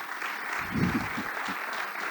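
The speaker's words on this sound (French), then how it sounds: "on va l'applaudir et il va nous entendre d'ici" Applause from a crowd at an awards ceremony, steady and fairly soft throughout, with a slight swell near the middle.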